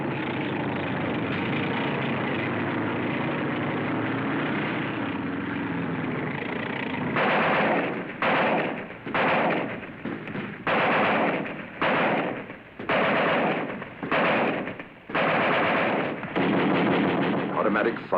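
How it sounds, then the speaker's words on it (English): Heavy automatic weapons fire in combat as armored personnel carriers assault alongside airborne troops, first a dense sustained roar, then repeated loud bursts with short gaps, someone talking over part of it. "Automatic fire, heavy, no chance for the infantry to move"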